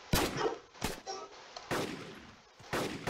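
Gunshots from a 5.7 pistol and a DMR sniper rifle in the Crafting Dead video game: four sharp, separated shots, each with a short echoing tail, spaced irregularly with quiet gaps between.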